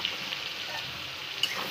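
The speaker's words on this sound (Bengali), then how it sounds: "পেঁয়াজটা একটু লাল করে ভেজে নিতে হবে।" Chopped onions frying in butter and oil with bay leaf and garam masala, a steady soft sizzle with no voices and a faint stir near the end.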